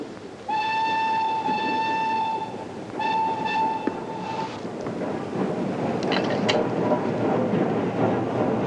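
A train rumbles steadily past nearby, sounding two long horn blasts early on, with clattering wheels and rolling noise continuing afterward.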